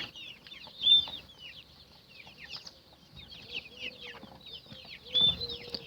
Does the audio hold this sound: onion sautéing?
no